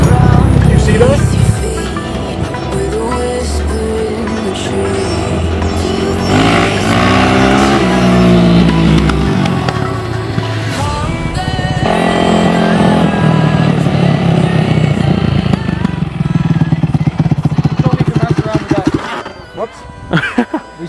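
A restored Yamaha YZ450F dirt bike revs up close in third gear at under half throttle, its loud engine note rising and falling in repeated sweeps before fading, while someone talks over it.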